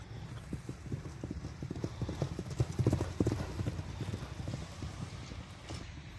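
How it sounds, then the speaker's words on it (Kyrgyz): A fast racing horse for sale in Kyrgyzstan gallops past, its hooves clip-clopping in a quick steady rhythm that swells louder mid-way then eases, with light wind in the background. "Эми мына каптал тараптан сиздерге бир чабып көргөзүп коелу."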